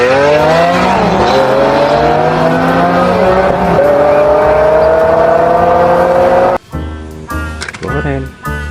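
A blue toy race car plays loud looping engine and revving effects with rising whines, then cuts to choppier electronic racing sounds near the end, with no one talking over it.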